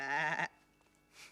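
A single sheep bleats loudly and close for about half a second, a wavering nasal cry that cuts off into quiet.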